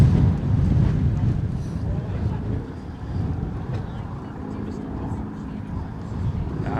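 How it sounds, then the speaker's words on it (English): An old warbird aircraft flying past at an air display, a broad steady engine roar with heavy wind buffeting on the microphone throughout, holding fairly constant loudness with a slight dip midway. "Proper old Warbird, that is."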